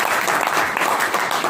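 Loud, steady applause from an audience at a Vestige business meeting, dense continuous clapping filling the whole moment without a break.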